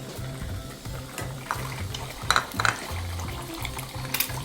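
An egg fries crispy in hot oil with a soft, steady sizzle, overlaid by intermittent scraping and light clinks of a utensil against the pan, close by.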